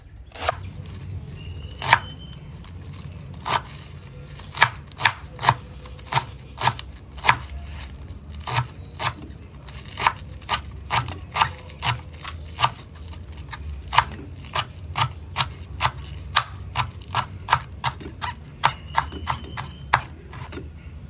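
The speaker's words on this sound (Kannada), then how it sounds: "ಪಾಲಕನ್ನು ನಾನು ಚೆನ್ನಾಗಿ ವಾಶ್ ಮಾಡಿಬಿಟ್ಟು ಇವಾಗ ನಾನು ಇಲ್ಲಿ ಕಟ್ ಮಾಡ್ಕೊಳ್ತಾ ಇದ್ದೀನಿ" A knife chops fresh washed palak spinach on a board in steady, crisp, close taps, repeating fairly evenly throughout with no speech.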